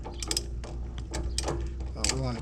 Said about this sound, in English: Then we take our ratchet, which is right here, and it has a little spot in here for this ratchet.